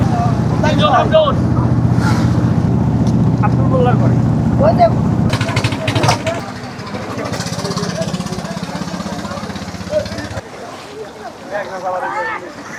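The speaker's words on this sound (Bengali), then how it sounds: "আমাদের ট্রলার ছেড়ে দিয়েছে" Trawler boat setting off across a river to a char island, with a loud, steady diesel engine chugging and wind buffeting the microphone. A person speaks briefly over the engine drone near the end.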